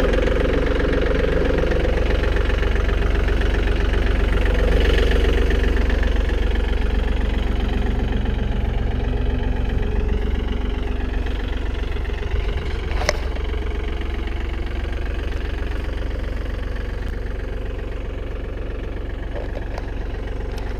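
A John Deere 4105 compact utility tractor idles steadily up close, a continuous low diesel rumble with a slight knocking texture and no talk over it.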